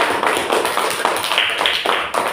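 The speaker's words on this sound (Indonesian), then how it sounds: "berikan aplaus dulu untuk kelompok 2" Classroom applause for a student group, a short burst of dense, steady clapping from many hands, loud and close throughout.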